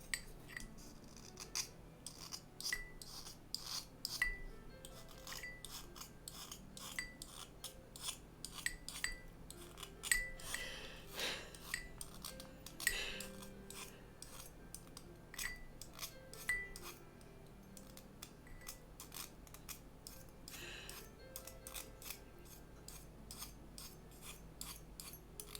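A pastel pencil is sharpened in quiet, faint, irregular scraping strokes that repeat steadily with small clicks. It goes on for about twenty-five seconds, close up and without talk.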